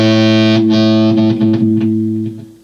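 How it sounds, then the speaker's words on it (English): Electric guitar through a pedal set halfway between distortion and fuzz, thick sustained chords played loud and close, then several choppy stabs and a fading final chord, with no voices. "The way I've got it set, it's kind of halfway between a distortion and a fuzz really, but it's good fun sounding pedal."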